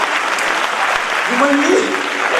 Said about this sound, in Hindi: तुम ताली बजाओ